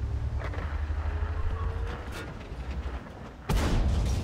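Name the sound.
tank cannon shot in the video game World of Tanks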